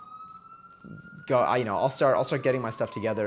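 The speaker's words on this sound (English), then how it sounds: "You can hear them in their cars and sirens right now." Police car sirens passing outside sound as a steady wailing tone, clear on its own at first and then continuing faintly beneath a person talking nearby.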